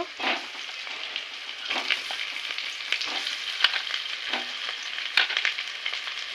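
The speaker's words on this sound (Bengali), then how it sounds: "একটু ভাজা ভাজা করে নেব পেঁয়াজটা ভাজা হয়ে গেছে এবার আলুগুলো দেব" Onions and potatoes fry in a pan with a soft, steady sizzle, broken by the scrape and clack of stirring at irregular moments, close and fairly quiet, with no voice.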